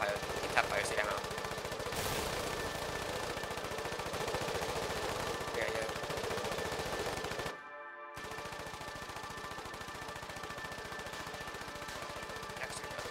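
Video game gunfire in the war game Foxhole: dense rapid bursts and overlapping shots rattle on steadily throughout, with a brief dropout midway, mixed with distant battle noise.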